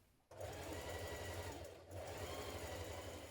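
A sewing machine stitches the shoulder seams of a dress with a 1 centimetre seam, a loud close rapid mechanical whir in two bursts split by a short pause.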